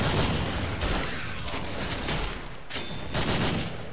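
Rapid bursts of shotgun fire in the zombie shooter game Left 4 Dead 2, several loud sharp blasts in quick succession mixed with dense in-game combat noise.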